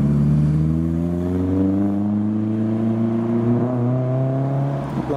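A Porsche 997 Carrera S flat-six revs loudly and close by, its note climbing steadily across several seconds, with the steady drone of a heavy truck engine underneath.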